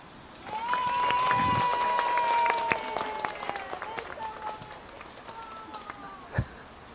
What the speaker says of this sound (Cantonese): 掌聲唔該